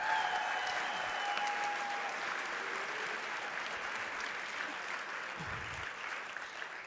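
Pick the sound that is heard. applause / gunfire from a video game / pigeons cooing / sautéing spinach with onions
applause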